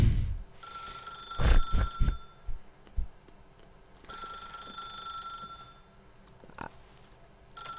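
A telephone rings in The Stanley Parable video game, sounding as a few bright, bell-like bursts that stop and return, loud and close with no voices over it.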